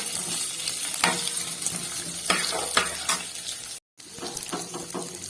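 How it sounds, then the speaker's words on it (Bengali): Nuts, raisins, green chillies and onion fry lightly in a pan, a steady close sizzle broken by sharp scraping stirs, with a brief silent gap near the end. "আর দেবো কতগুলো কাঁচা লঙ্কা দিয়ে এটাকে একটু হালকা করে ভেজে নেবো"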